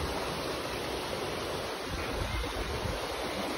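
Floodwater rushes steadily over the ground after a landslide, a loud, continuous broadband roar with no breaks, like heavy surf or a torrent close by.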